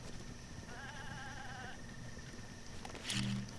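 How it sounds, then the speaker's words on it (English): A goat in Zelda: Breath of the Wild gives a quavering bleat while running away, faint over a steady outdoor hum and followed by a brief, louder burst of noise. "And you see this goat? He's running away."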